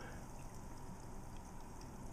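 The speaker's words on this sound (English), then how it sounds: "I like that waterfall effect." Coolant pours down the inside walls of a PC reservoir tank that has an anti-vortex fitting, giving a steady, soft waterfall wash, continuous and even and heard alone.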